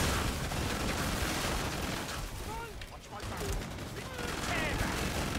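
Sustained rapid gunfire fills the Killing Floor 2 fight, a dense, loud fusillade over chaotic game noise, dipping slightly midway before surging again.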